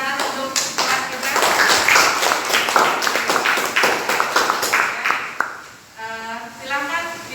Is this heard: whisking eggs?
no